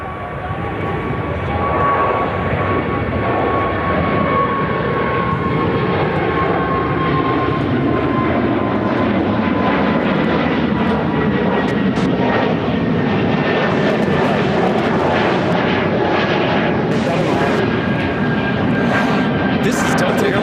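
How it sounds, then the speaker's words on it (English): A Delta Airlines Airbus A220-100 jet taking off from Chicago O'Hare bound for LaGuardia roars close and loud, its engine whine holding steady while someone talks over the din. "This is Delta Airlines 2894 taking off to LaGuardia on the A220-100."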